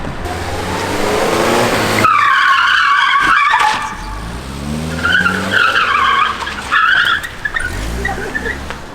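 A car spins through a 180-degree turn with its tyres skidding and squealing in long, loud screeches over the revving engine. The squeals come in several bursts, and voices can be heard now and then.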